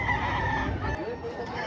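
A Kelso gamecock rooster crows loudly and close, one drawn-out cock-a-doodle-doo that rises and then trails off in under two seconds.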